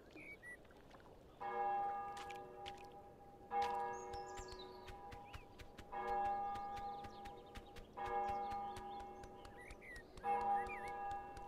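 Repeated bell ringing in Untitled Goose Game, five evenly spaced tolling strikes a couple of seconds apart with lingering tones, faint overall, with quick ticking clicks in between and no talk.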